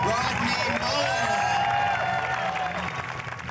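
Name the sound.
audience applause for Rodney Mullen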